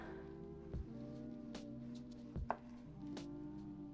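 A tomato knife cuts through a firm tomato in a few sharp, separate strokes, with soft music playing steadily underneath.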